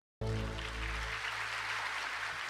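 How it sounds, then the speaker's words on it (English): Applause from a crowd at a Jehovah's Witness convention, heard as steady dense clapping that starts abruptly and holds at an even, fairly loud level for the rest of the clip, over a low hum. "Why were people clapping?"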